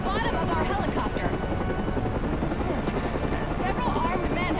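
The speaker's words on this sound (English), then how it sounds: "the Batman has been blown from the building by the blast and is somehow hanging from the bottom of our helicopter" Helicopter in the video game Batman Arkham Origins, its steady rotor drone filling the whole moment with a dense, loud mechanical roar, joined by faint whistling tones and game noise.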